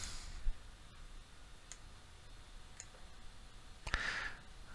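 A computer mouse clicking on a Transfer button in accounting software: a few faint, sharp isolated clicks spaced across a quiet background, the last one slightly louder.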